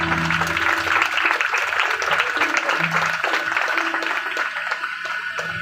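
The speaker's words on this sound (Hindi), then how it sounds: "जोरदार ताली बजा दो।" Sustained applause from an audience at a church anniversary gathering of a ministry in Simdega, a dense steady wash of clapping across the full length with a low tonal hum beneath.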